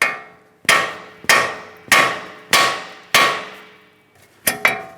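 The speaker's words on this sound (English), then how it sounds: "If you were using a hammer, we want to lightly tap along the steering knuckle, causing vibration." Six sharp metallic hammer taps on a steering knuckle of a Chrysler Town & Country ring out one after another at a steady pace, the last two coming close together, each with a bright clanging decay.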